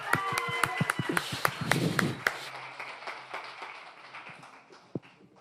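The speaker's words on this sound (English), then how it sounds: "Big round of applause for Didier." Audience at a bartending cocktail competition semi-final claps for a bartender, distinct close claps at first amid speech, then thinning to scattered claps and a final isolated clap.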